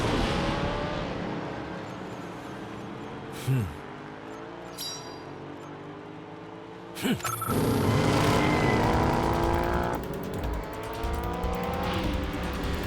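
Race cars roar past at speed in a loud engine wash, with sharp whooshing passes and rising revs cutting through. Bright ringing tones sound over the engines.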